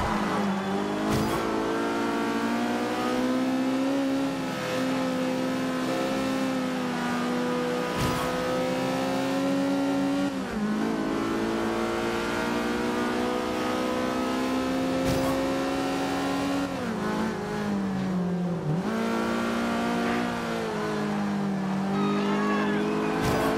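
A racing car's engine in Forza Horizon 2, played with a steering wheel, holds a loud steady drone that climbs and drops through gear shifts and revs for the whole stretch, under music-like tones with no speech.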